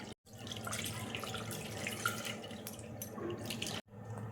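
Water runs from a tap while fresh chhana for rasgulla is rinsed. The flow is steady and splashing and lasts a few seconds, with a couple of abrupt cuts.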